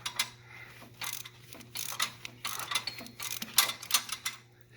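A ratchet socket wrench turning a bolt on the exhaust of a 2016-2020 Camaro SS, giving bursts of quick clicking ratchet strokes with short pauses between them, close and fairly faint against a low steady hum.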